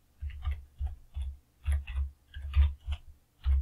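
Mouse clicks while working in an Excel spreadsheet, a quick irregular run of soft, close clicks and taps with short gaps between them and no talking.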